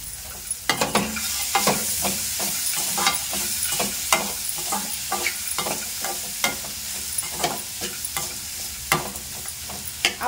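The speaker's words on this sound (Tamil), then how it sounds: "மசாலாஸ் நல்லா வதங்கிடுச்சு" A spoon keeps stirring soaked dal and masala as they fry in a pan, with steady sizzling and regular scraping taps, loud and close, and nobody speaks.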